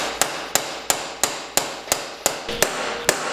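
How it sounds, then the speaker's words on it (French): A hammer drives out a bent wheel axle on a crashed Yamaha MT-07, ten sharp metallic blows at a steady rhythm, close and loud, with no talk. "Attends, je vais prendre un vrai marteau."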